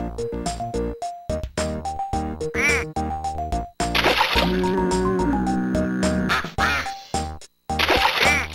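Cartoonish duck quacks from the Fisher Price Splatster plug-and-play game, bright squeaky calls repeated in quick bursts over a bouncy electronic music loop, then a louder jingle swells before the quacking returns.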